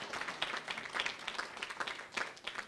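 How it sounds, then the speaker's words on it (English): An audience at a San Francisco mayoral announcement claps briefly, a scattered, fairly faint patter of hands at a distance. "so we should clap for that."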